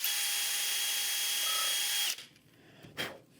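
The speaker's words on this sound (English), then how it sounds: "I just hold it tight with my hand and drill a hole" A power drill whines steadily as it bores a hole into hand-held wood for about two seconds, then stops, followed by a brief clatter.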